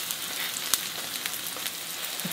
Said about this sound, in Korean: 깻잎은 향이 있어서 어묵을 감싸서 이렇게 전을 부치시면 아주 맛있어요